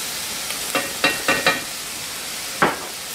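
Ground garlic stirred into a pan of lentils with salami over a steady frying sizzle, with a few short scraping stir strokes close by.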